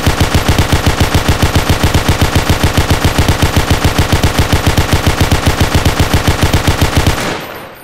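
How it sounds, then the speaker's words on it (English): Heavy machine gun emplacement firing in Garry's Mod, a loud, fast, unbroken stream of evenly spaced shots lasting about seven seconds before cutting off into a short fading tail. "The cord heavy machine gun"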